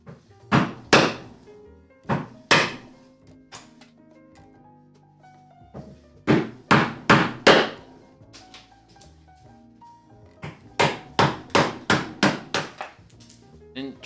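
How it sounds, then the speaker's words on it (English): A hammer drives a chisel into plywood in short bursts of sharp, woody knocks, two or three quick strikes at a time separated by pauses, close and loud, with no talking. "traditionally, you're not supposed to chisel plywood like this"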